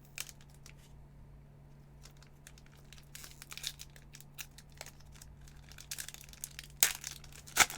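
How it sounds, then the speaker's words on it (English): Flesh and Blood Outsiders booster pack wrapper being worked at and torn, heard as faint scattered crinkles and scrapes that build to a few sharper rips near the end, close by with no talking. "Why won't this pack open?"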